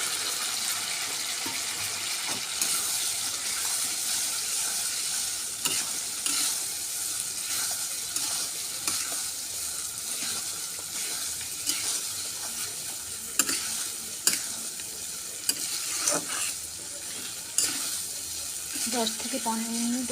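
Soybean chunks fry in a spice masala with a steady close sizzle, broken by repeated spatula scrapes and stirring clanks against the pan, a few louder knocks near the end.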